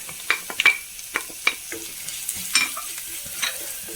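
Crushed ingredients frying in a pan as they are stirred: a soft steady sizzle under irregular scrapes and knocks of a spoon against the pan, close and unaccompanied by speech.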